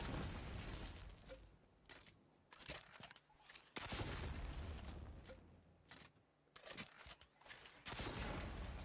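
Heavy weapon blasts in the sci-fi shooter Destiny Rising, sharp loud shots with bursts of rapid gunfire, booming repeatedly with short pauses between volleys.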